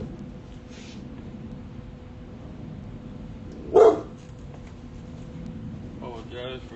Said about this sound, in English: Apologize for the barking dog over here